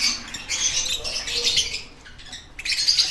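Blue rosy Bourke parakeets chirp in a breeding room, a steady chatter of high twittering calls with short gaps, moderately close and fairly soft.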